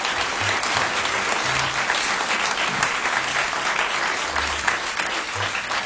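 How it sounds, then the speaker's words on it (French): Audience breaking into loud sustained applause, a dense, even roar of many hands clapping that holds steady from start to finish with faint crowd murmur beneath. "On l'applaudit bien fort."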